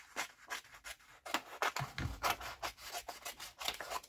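Scissors snipping a piece off a fabric patch, a run of short close rasping cuts in quick uneven rhythm, with no talk.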